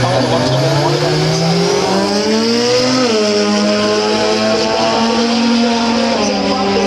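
A Mazda RX-7 drag car at a Willowbank, Queensland drag racing meet roars loud and close, its rotary engine note climbing and shifting in pitch as it accelerates, with a commentator's voice running over it.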